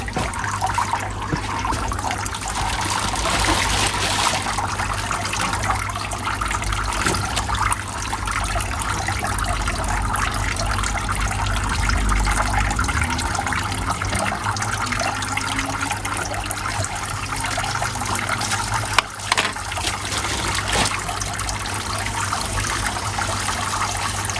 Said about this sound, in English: put a little hole in the bag and let the water drain out